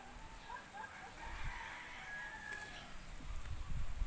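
Faint chickens cluck and crow inside a backyard pen that also holds pet ducks and pigs, heard at a distance over a steady low rumble and hiss, with no talking.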